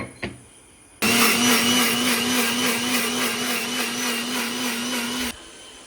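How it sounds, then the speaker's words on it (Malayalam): A kitchen mixer grinder grinds soaked rice with coconut and water, a loud steady motor whine with a strong hum that starts abruptly after a faint knock, runs for about four seconds and then cuts off. "അരി അരക്കുമ്പോൾ അതിൻ്റെ കൂട്ടത്തിൽ തന്നെ തേങ്ങ ഇട്ട് കുറച്ച് വെള്ളം ഒഴിച്ചിട്ട് നന്നായിട്ട് നൈസായിട്ട് അരച്ചെടുക്കുകയാണ്"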